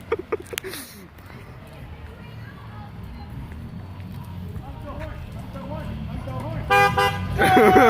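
Car horns toot on a street during a roadside honk prank, with a burst of short honks at the start and a louder blast near the end, while people talk and shout excitedly throughout.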